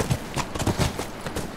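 Horse hooves clip-clop in a quick, uneven rhythm in The Last Of Us: Remastered on PS4, close and fairly loud with no speech over them.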